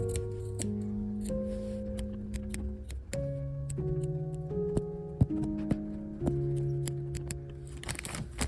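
Small scissors snip Turkey stitch embroidery threads while an eggplant shape is trimmed, a string of crisp close cuts at an uneven pace over a soft sustained musical background.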